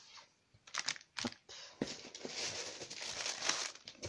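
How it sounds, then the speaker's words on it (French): Close, soft crinkling and rustling of tissue paper wrapping, with a few sharp crackles early on and then a steady papery rustle throughout. "c'était bien emballé dans du papier de soie"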